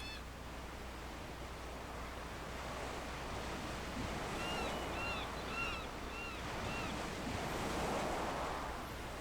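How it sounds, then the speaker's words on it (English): Ocean waves wash and break steadily in the Second Life virtual world near a buoy, a broad continuous surf roar swelling and easing, with faint bird chirps dotted above it and no talking. "There's a couple spots out there where there's crashing waves as well."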